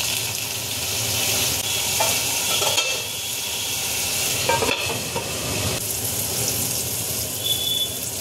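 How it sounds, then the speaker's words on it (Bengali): Vegetables with chili powder and chaat masala stir-frying in a pan for veg chowmein, a loud close sizzle broken up by repeated scraping and stirring strokes. "আমার সবজিটা ভাজা হয়ে গেছে।"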